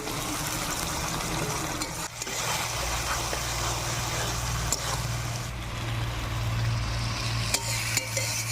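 Fish pieces go into a bitter gourd curry with a little water in a pan, giving a continuous wet sizzle and bubbling hiss with occasional scraping stirs.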